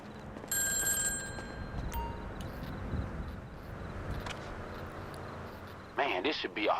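A payphone rings in the GTA 5 Online video game, its electronic bell trilling near the start over a steady background hum of game ambience, with voices talking briefly near the end.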